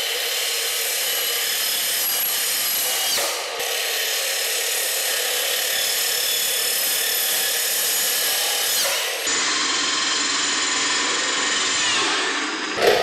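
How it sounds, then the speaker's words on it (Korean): A cordless rebar cutter slices through two greenhouse pipes clamped together in one pass, giving a steady, loud grinding whine that runs almost unbroken for the whole stretch, with two brief dips where the cut shifts. "이번에는 하우스 파이프를 일부러 또 두 개를 한 번에 잘라보려고 합니다."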